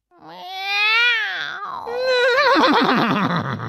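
A horse neighing in a children's English lesson, one loud close whinny that rises and then breaks into a shaky, trembling trill.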